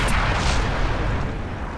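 AMX Chaffee light tank cannon firing in World of Tanks, a single loud, close boom with a long rumbling tail fading over almost two seconds.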